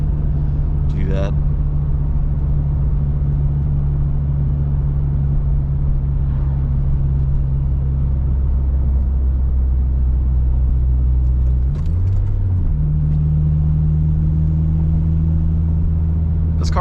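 Steady low engine drone from inside a moving Acura RSX with polyurethane engine mounts, with a faint rattling buzz under it and a brief shift in pitch partway through.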